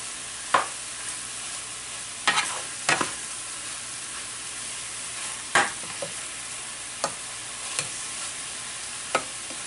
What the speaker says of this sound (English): Just a little bit of olive oil, 2 tablespoons salt and pepper. And sear it.